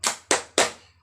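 Three crisp hand claps in an even rhythm, close and loud, keeping time in an Islamic children's song, with no voices under them.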